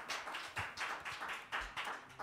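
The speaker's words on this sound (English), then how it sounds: "Let's get a round of applause from everyone at home" A small audience claps after a jazz tune, a few scattered hands tapping in soft, uneven bursts that stay faint and sparse.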